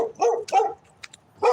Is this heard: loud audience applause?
no